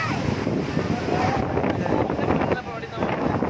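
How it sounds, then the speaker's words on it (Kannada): Strong wind gusting near open dam gates with rushing water, a continuous loud buffeting roar over the microphone that carries throughout. "ಬರ್ತಾ ಇಲ್ಲ, ಗಾಳಿ ಹೊಡಿತಿರೋದು."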